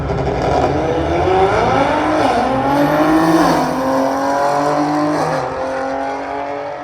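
A BMW M240 at a drag strip runs rough, its engine droning loud and close with wavering, uneven pitch that rises and dips over several seconds, no talk.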